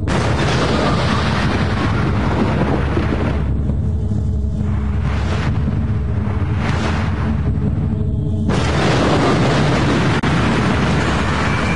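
A Fat Man atomic bomb explosion rendered as a documentary effect: a loud, sustained roaring rumble that dips briefly in the middle, then surges back with a heavy, continuous blast wash to the end.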